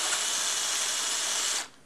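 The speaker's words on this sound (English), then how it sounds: "you're grinding pepper like nobody's business" A cordless 24-volt electric pepper mill grinds pepper with a loud, steady whirring buzz that stops abruptly near the end.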